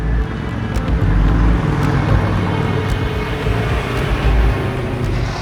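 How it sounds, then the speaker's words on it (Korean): Motorcycles and other traffic rumble all around a street in Zone 3, a dangerous district in Latin America, as a steady, loud engine drone with no talking. "지금 사방에서 오토바이 소리가 나가지고"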